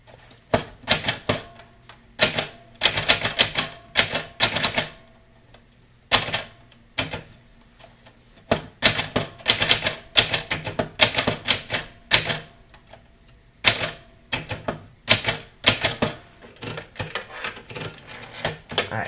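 An old-style mechanical typewriter is typed on in bursts of rapid clacking keystrokes, close and loud, with short pauses between runs.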